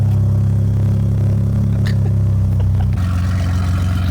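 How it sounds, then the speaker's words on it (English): A car engine running loud and close, a steady deep idle rumble with a slight rise like a light rev near the end, alone without talk. "I can't hear the Corvette because of your car."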